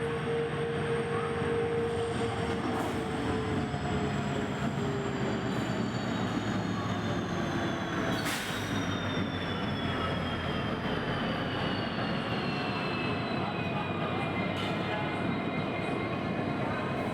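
The Pamban Express running on Indian railway track, a continuous loud rumble of wheels and carriages with high squealing wheel tones sliding in pitch, heard up close for the whole stretch with no talk.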